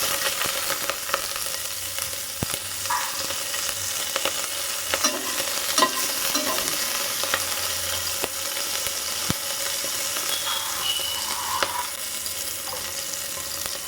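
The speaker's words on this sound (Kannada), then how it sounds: "ಈಗ ಇದಕ್ಕೆ ನಾನು ಹಸಿಮೆಣಸಿನಕಾಯಿ ಹಾಕೋತಾ ಇದ್ದೀನಿ" Green chillies go into a hot pan and are stirred. A steady hiss of frying runs throughout, broken by scattered close scrapes and clicks of the spoon against the pan.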